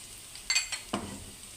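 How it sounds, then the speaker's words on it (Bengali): Sliced onions go into hot oil already frying with cinnamon, cardamom and bay leaves for a hotel-style tripe fry. Two quick, faint sizzling bursts come from stirring, and the sound fades into quiet background. "এখন আমি এর ভিতরে দেব পরিমাণ মতো পেঁয়াজ।"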